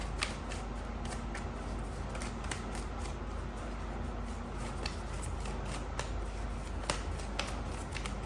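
Tarot cards being shuffled close up, a continuous papery rustle dotted with small crisp snaps and flicks, with no talking.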